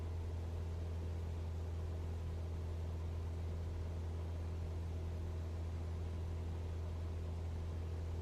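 Steady low drone of a piston aircraft engine with revs being brought down in Microsoft Flight Simulator 2024, an even, unbroken hum heard alone without voices.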